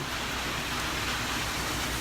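Steady rain falling outdoors, a dense continuous hiss of drops on surfaces, fairly even in level throughout.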